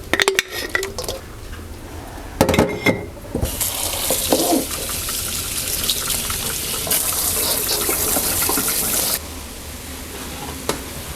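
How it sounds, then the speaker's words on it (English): A running tap gushes loudly and steadily into a sink while canned corn and beans are rinsed, preceded by a few clanks of a can and dishes, close and without talk. "Now we're going to throw in our corn and our beans and give these all a good rinse."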